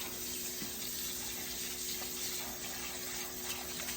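Hot water runs steadily from a tap into a sink, a continuous hiss and splash with a faint low hum beneath.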